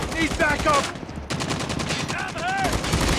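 Rapid gunfire bursts from the mobile shooter Call of Duty Mobile in a Gun Game team fight, loud and dense, with a brief pause midway and people talking over the shots.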